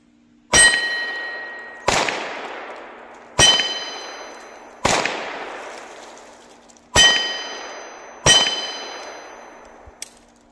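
Six Ruger Wrangler sheriff's model revolver shots clang off steel targets outdoors, each sharp crack followed by a long ringing ping that decays, spaced roughly one and a half seconds apart.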